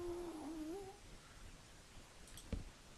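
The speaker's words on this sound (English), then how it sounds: "there goes the cat screaming and hollering because I've been at this for so long that it's just been like driving Spike crazy" A pet cat named Spike lets out a single faint, wavering yowl lasting about a second over low background noise, followed later by a brief soft thump.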